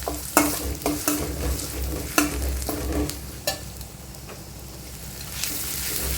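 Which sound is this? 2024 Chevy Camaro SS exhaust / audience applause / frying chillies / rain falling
frying chillies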